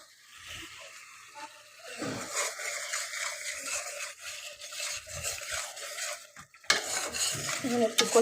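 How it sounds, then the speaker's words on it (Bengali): Spices frying in a pan for a fish and radish curry, a close scraping stir of a spoon against the metal under a soft continuous sizzle, growing busier and louder toward the end. "এখন একটু কষিয়ে নিচ্ছি মশলাটা"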